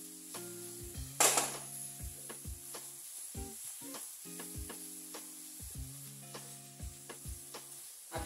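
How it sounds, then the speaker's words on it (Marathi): Coconut barfi mixture being stirred in a pan: repeated scraping strokes of a spoon against the pan, close and fairly quiet with a soft sizzle beneath, one brief sharp clatter near the start and no talking. "आपण 1च मिनिट आपल्याला ह्याला थोडंसं हलवून घेऊ"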